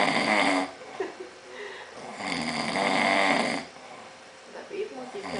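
A man snoring loudly at close range, long rasping inhalations with breathy exhales in a slow repeating rhythm, harsh and strong.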